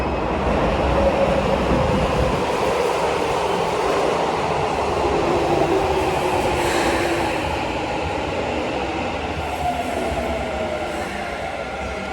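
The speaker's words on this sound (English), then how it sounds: "oh no, oh, I just missed the train." A train pulls away from a platform at Akihabara Station in Tokyo, a loud continuous rumble with rising and falling motor whine and rail noise, close by and steady over several seconds, with no talking.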